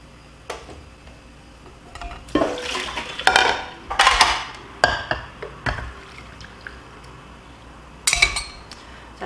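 Kelp being lifted out of a pot of water close to boiling, with repeated metallic clinks and clatters of utensils against the pot and brief pauses between.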